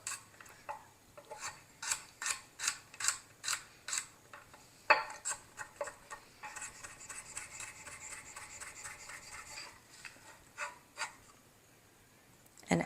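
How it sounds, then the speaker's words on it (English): A knife minces two garlic cloves on a board with quick, rhythmic, close chopping taps in bursts, then several slower taps before going quiet. "I'm going to take 2 garlic cloves and mince them up really,"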